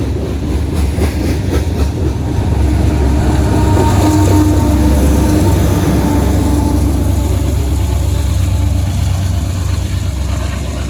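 A heavy Norfolk Southern coal train rumbles past close by at a night crossing, its DPU locomotive engine droning hard under continuous wheel clatter and rail noise.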